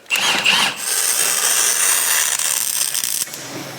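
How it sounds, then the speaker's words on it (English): A ratchet wrench clicks and whirs close by in a workshop, a loud rough burst that runs for a few seconds before tapering off. "Why isn't it ratcheting the whole way?"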